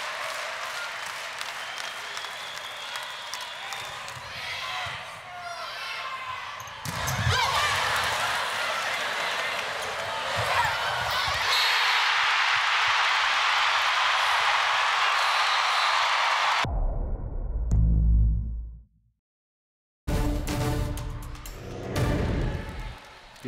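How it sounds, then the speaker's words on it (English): Crowd at a Nebraska at Wisconsin Badgers college volleyball match roars and applauds around a Wisconsin set point, a loud sustained cheer building before a sharp cutoff, then more crowd noise resumes. "The Badger crowd will let you know how this goes."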